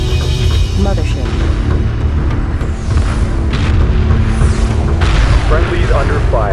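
A hyperspace gate blows up in the space strategy game Homeworld 2 with loud, rolling booms and blasts layered over a constant heavy rumble of battle, while radio chatter voices come and go.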